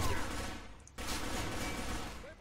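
M4 rifle gunfire in the shooter Arctic Combat crackles in a rapid, fairly quiet burst, briefly cut off and then resuming as steady rattling fire against a noisy game backdrop.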